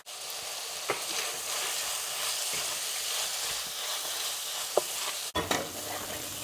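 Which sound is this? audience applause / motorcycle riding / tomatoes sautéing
tomatoes sautéing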